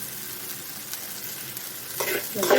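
Fine wheat semolina is dry-roasted and stirred in a pan for wheat upma, giving a soft, steady scratchy hiss that grows into louder scraping bursts toward the end.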